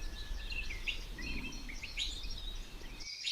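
Several yellow-billed oxpeckers give thin, high chirps and twittering calls in quick bursts near a rhino, close and fairly clear over a low steady background rumble.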